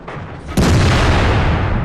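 A tank cannon shot in the World of Tanks video game: a quiet rumbling lead-in, then a sudden loud boom that holds as a sustained roar to the end.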